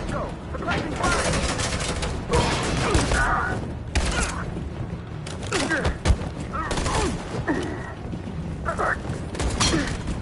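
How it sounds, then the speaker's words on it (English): Bursts of suppressing gunfire crackle through a tense firefight in the game Detroit: Become Human, repeated volleys over shouting voices and a chaotic mechanical din. "Go, suppressing fire!"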